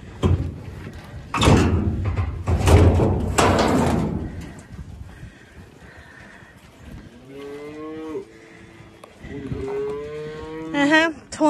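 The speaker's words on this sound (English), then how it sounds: "Come on, cows." Cattle on a farm moo loudly and close by at morning feeding, several long drawn-out calls in the first half, then quieter lowing and higher bawling calves later, with a sliding-door clatter in between.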